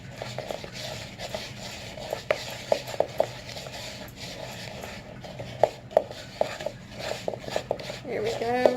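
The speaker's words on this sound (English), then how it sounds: "Keep stirring." A utensil scrapes and taps around a bowl while New York style cheesecake batter is stirred, irregular light knocks and clinks over a soft background, with a voice speaking at times.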